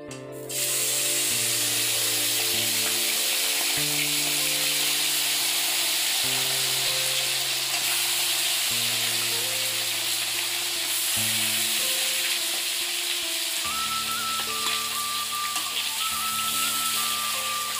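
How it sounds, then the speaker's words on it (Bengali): Fish frying in a pan of hot oil, a loud, constant spattering sizzle that starts abruptly and holds steady throughout, close up with a low background hum and no talking. "মাছটা এখন ভাজা বসাচ্ছি"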